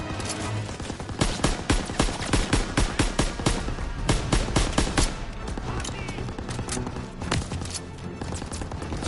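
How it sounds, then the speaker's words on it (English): Heavy suppressing gunfire in a WWII shooter game, with loud rapid bursts and single shots close by, overlapping in an irregular rhythm throughout. "Covering fire. Enemy rushing our position. Suppressing fire!"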